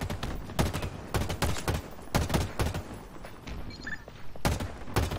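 A weapon fires in bursts of rapid shots in Halo Infinite, with loud, close volleys repeating every second or so and brief pauses between them.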